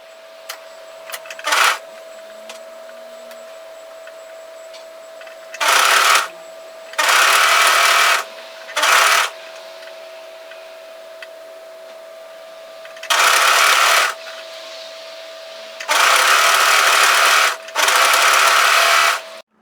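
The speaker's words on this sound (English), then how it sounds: "We are going to overlock serge that sleeve into position through 3 layers of fabric." An overlocker serges a hoodie sleeve seam through three fabric layers in several loud bursts of rapid whirring, short and long, separated by pauses. A faint steady hum runs underneath throughout.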